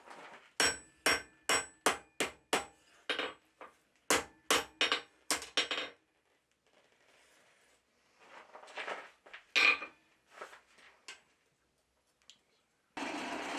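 A blacksmith hammers a steel bar held in light tongs, with two bursts of rapid, sharp ringing blows, a quiet pause, then a few scattered, softer knocks and scrapes.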